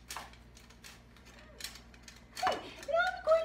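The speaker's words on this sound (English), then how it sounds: "he's gonna lift up the sifter and sift it and make sure it gets into the bowl" Hand-cranked flour sifter sifting flour for pancakes, faint dry scratchy turning and rasping in short bursts over a low steady hum, with brief squeaky noises near the end.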